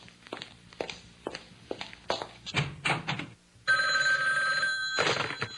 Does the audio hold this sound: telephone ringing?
yes